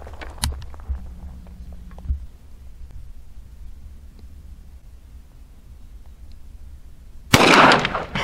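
A single sharp gunshot from a Rossi Brawler single-shot in .410/.45 Colt, fired at a shaving cream can outdoors, cracks out loud and close after a stretch of quiet with a few small knocks.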